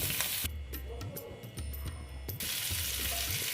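Eggs frying in a pan for Afghani egg curry, a steady soft sizzle and crackle running throughout, with a brief brighter burst of spitting in the middle, no talking.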